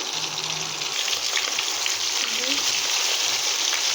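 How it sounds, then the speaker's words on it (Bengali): A fish head frying in plenty of oil gives a dense, steady sizzle throughout, close and fairly loud, with a low voice faintly underneath. "বেশি করে তেল দিয়ে নিয়ে আমি ভেজে নিচ্ছি লাল লাল করে"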